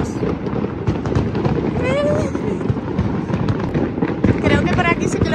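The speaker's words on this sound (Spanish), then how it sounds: "¡Mira! Hay fuegos artificiales." Fireworks going off at a town fair in Calatayud, a dense continuous crackle and popping heard from a distance under steady crowd noise, with people talking nearby.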